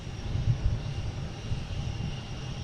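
An Aer Lingus airliner departs Boston Logan International Airport, heard as a steady low jet rumble at moderate distance, swelling slightly and then holding even, with no voices.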